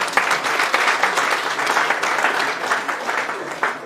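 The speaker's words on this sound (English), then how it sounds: "Let's give him a round of applause." A crowd applauds steadily at a public event, dense continuous clapping that stays loud and even throughout.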